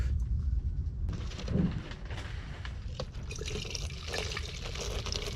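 Paint leaking and dripping from a paint gun, just after washing, while painting a 1968 Charger engine bay: close watery trickling and splattering drips that keep going, with some shop clatter mixed in.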